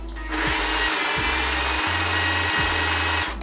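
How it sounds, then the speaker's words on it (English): Sewing machine stitching fabric for a reusable face mask, running in four short bursts of rapid mechanical whirring separated by brief pauses, close and clear. "So you're gonna sew this fabric until you get,"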